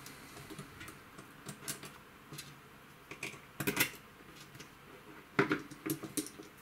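Small Phillips screws being driven back into a Tokyo Marui M4 MWS gas blowback airsoft rifle during hammer unit reassembly, giving quiet, irregular clicks and scrapes close by, with no talking.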